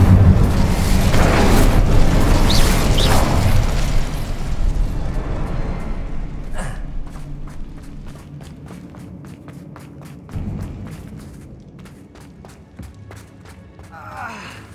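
An Incendio fire spell from Hogwarts Legacy erupts in a loud whooshing burst that slowly dies away into crackling and scattered footsteps.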